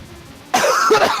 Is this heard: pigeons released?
no